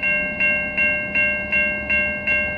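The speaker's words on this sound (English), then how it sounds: "CN train at a" A CN freight oil train horn sounds at a road crossing in Ville St-Laurent in a steady repeating pattern, several short pulses in a row, fairly loud with a faint rumble beneath.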